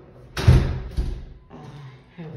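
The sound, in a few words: apartment door being opened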